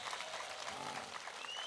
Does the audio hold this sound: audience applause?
yes